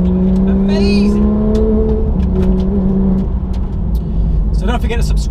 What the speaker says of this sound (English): because this engine is absolutely amazing.